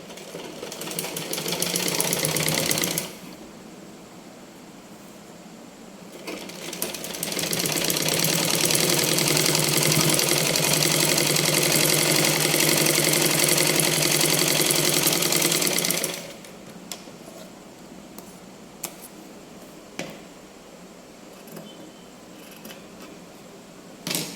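A sewing machine stitches a 36-inch blouse front panel in two loud, steady runs of fast mechanical chatter, a short burst then a longer stretch, with quiet pauses and a few clicks after.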